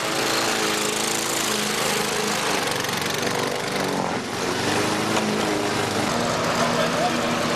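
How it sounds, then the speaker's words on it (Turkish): Lawn mowers cutting grass in a park make a steady, loud engine drone that runs without a break, with a brief dip near the middle. "Öte yandan ekipler çim biçme çalışmaları ile parklardaki güzel görünümü sağlıyor."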